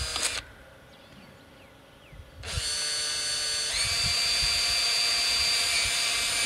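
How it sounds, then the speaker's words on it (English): A power drill fitted with a 5mm bit bores holes while installing an irrigator crossing point on a spring fence system, a short whine followed by a steady, loud motor drone that holds to the end. "So you drill your holes using a 5mm bit"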